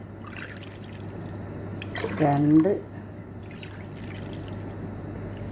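Water poured from a cup into sugar in a pan to make syrup for basbousa cake, a short splashing pour lasting under a second, near and clear, between stretches of someone talking.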